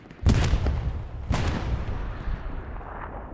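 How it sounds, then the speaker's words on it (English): Artillery strike explosions in the video game Hell Let Loose: two heavy booming blasts about a second apart, each followed by a rumbling tail that fades slowly, fairly loud and without talk. "Sergeant Numbnuts, Reverend Forrest, all in the vicinity of the bombing or the artillery strike."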